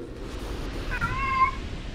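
A house cat lets out one clear, fairly close meow halfway through, standing alone over low background hum from a game.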